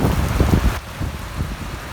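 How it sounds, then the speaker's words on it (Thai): Heavy rain pours steadily, a dense hiss with thick drops pattering nearby, loud and continuous without any voices. "เบิ่งฝนเม็ดสมักหินเนะเม็ดโคตรใหญ่เลย"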